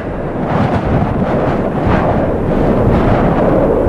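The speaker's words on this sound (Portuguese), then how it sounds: "O vento leva os cristais de neve por sobre a terra." Howling blizzard wind drives snow across open ground, a loud, dense, roaring rush with gusting swells and no clear pauses.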